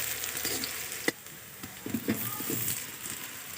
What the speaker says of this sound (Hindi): यहाँ तेल भी हमारा अच्छे से गर्म हो गया, तो उसमें प्याज और लहसुन की पत्ती डाल दी है